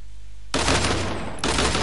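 Rapid video game gunfire breaks out abruptly after a quiet start, a dense loud burst of shots that pauses briefly and then resumes, with no talking over it.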